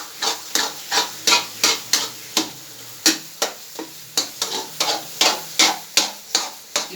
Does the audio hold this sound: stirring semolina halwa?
yes